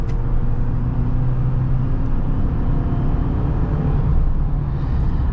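A 2022 Chevy Silverado with a 2.7-liter turbocharged four-cylinder engine drives along, a steady low rumble and road hum heard from inside the cab, constant and fairly loud throughout.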